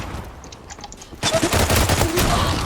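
Rapid gunfire from a first-person shooter game, Zula, bursting in loud and dense after a quieter opening, with a steady rattling stream of shots to the end.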